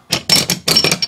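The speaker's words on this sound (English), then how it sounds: "Then you pull the slide back and up" Grand Power K100 pistol slide pulled back during field strip: two quick pairs of crisp metallic clicks and scrapes of the slide and parts moving, close and loud, with no talking.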